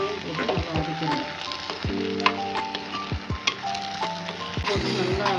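Tomato and onion sautéing in a pan for a country chicken curry, a moderate sizzle punctuated by spoon knocks, with a tonal melody playing along underneath.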